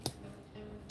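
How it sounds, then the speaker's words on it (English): Two brief clicks of keyboard typing, one at the start and one near the end, with a quiet background hum in between. "Why are you guys typing?"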